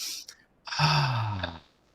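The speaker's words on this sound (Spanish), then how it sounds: "si tú miras cómo es un bostezo es una inspiración corta y una expiración larga" A person demonstrates a yawn: a brief inhale followed by a long, drawn-out voiced exhale lasting about a second, heard close and alone.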